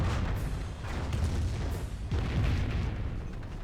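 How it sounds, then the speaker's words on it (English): A Wurfrahmen rocket artillery barrage in the game Company of Heroes, with repeated booming explosions and rumbling blasts rolling over several seconds, loud and dense. "No, that's another Warframe barrage from his teammate."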